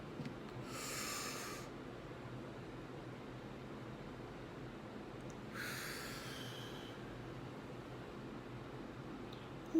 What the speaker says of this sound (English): Breathe in, breathe out.